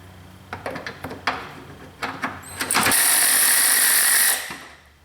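A 10mm bolt on a 2008-2012 Chevy Malibu headlight being loosened by hand: scattered ratchet-like clicks and taps, then a steady high whirring hiss for about a second and a half that fades out.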